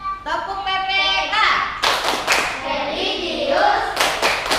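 Schoolchildren performing a rhythmic patterned clap in a classroom, sharp unison claps and taps punctuating sung and chanted children's voices, with a teacher's voice also present.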